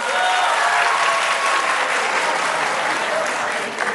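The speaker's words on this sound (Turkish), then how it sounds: "Hayır diyenler alkışlasın." The studio audience of a Turkish TV talent show claps in a thick, even burst lasting about four seconds, loud and continuous with a little crowd noise mixed in.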